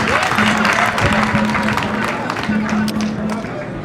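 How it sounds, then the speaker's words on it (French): Crowd applause for deputy Vincent at a Gohitafla ceremony rewarding top students and teachers, loud clapping mixed with voices and a faint tonal hum, fading slightly toward the end. "Applaudissements nourris par le député Vincent."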